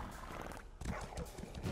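A horse in The Elder Scrolls Online game, heard as faint hoof clip-clops within a busy game soundscape, brief and quiet.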